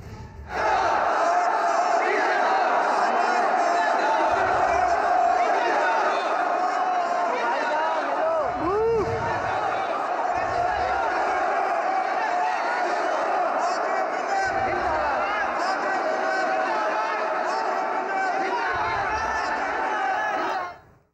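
A large crowd of party workers chants slogans in unison, a dense, loud roar of voices that holds steady for about twenty seconds, with rhythmic low bursts of shouting rising and falling through the din.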